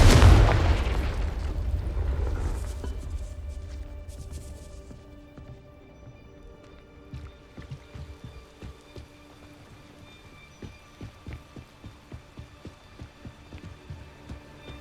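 A Confringo fire spell blasts in the Hogwarts Legacy video game as a loud, booming burst at the start, then a long crackling, rumbling decay with faint scattered debris and rain-like patter.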